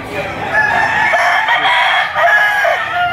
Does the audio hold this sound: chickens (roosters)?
yes